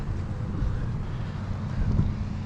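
Cold wind blowing outdoors on a dry morning at a camping meeting, a steady low rumble of buffeting on the microphone that swells a little midway, with no talk.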